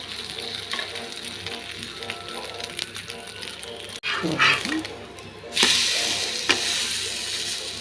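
Bread omelette frying in oil in a pan, a steady sizzle that swells sharply when more food is laid in, with soft scraping and stirring, fairly close, and a voice talking quietly in the background.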